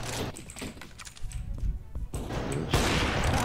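Several sharp gunshot cracks in Counter-Strike: Global Offensive amid busy clicking and background noise, ending in a loud sustained burst of noisy firing.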